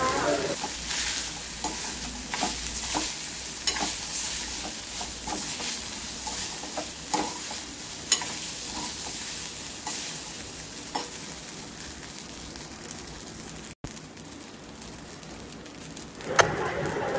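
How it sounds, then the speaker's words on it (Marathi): Boiled rice being stirred and mixed in a frying pan for jeera rice, a steady sizzle with repeated spatula scrapes and taps at an irregular rhythm, close and moderately loud, with no talking. "मग याच्यात ॲड करूया बॉईल झालेलं राईस आणि मिक्स करून घ्या."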